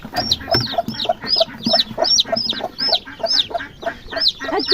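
Newly hatched chicken chicks peep close by in a rapid, repeated series of high, chirpy calls, several birds overlapping in a busy rhythm.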